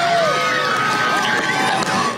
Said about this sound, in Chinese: 一听到判决结果出炉，开心的尖叫拍手